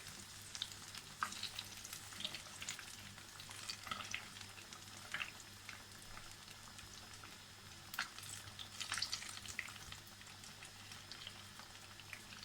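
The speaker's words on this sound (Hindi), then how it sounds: "अब ये भी अच्छे से लो फ्लेम पे फ्राई हो जाएगी" A fish fillet, turned over, fries on low flame in a pan: a quiet, steady bubbling sizzle with faint crackles and soft pops, close and unaccompanied by talk.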